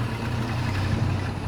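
A 1967 Chevrolet El Camino with a 327 four-barrel V8 and Powerglide idles steadily, a low, even rumble heard up close and alone.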